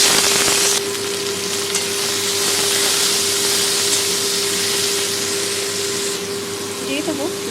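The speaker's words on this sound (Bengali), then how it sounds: "কড়াইতে তেল দিয়ে উচ্ছেগুলোকে ভালো করে প্রথমে ভেজে নেব।" Bitter gourd fries in oil in a wok, a steady loud sizzle running throughout with a constant hum beneath and brief stirring near the end, while a voice talks over it.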